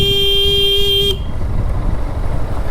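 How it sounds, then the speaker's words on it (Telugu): A vehicle horn blares at pedestrians on a road, one loud sustained tonal honk lasting about a second, then cutting off to leave steady road and engine noise. "హార్న్ కొట్టినా సరే పక్కగా జరగదు"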